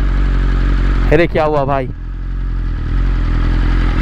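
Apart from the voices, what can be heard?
superbike motorcycle engine riding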